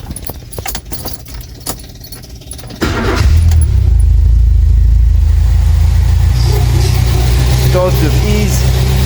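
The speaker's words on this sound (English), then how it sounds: "The car starts with ease." A Renault 5 is started after keys rattle close by, the engine catching at once and settling into a loud, steady idle with a deep low rumble that runs to the end.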